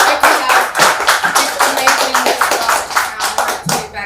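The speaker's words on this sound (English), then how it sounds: "Please, big round of applause." An audience at a community professionals' evening event gives a loud, dense round of applause that stays sustained for several seconds, with some voices mixed in.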